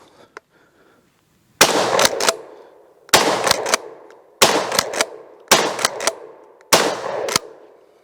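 McCoy PAS12 12-gauge pump shotgun fired at a target outdoors, five loud blasts each followed by the clack of the pump action, in a steady rhythm about a second apart.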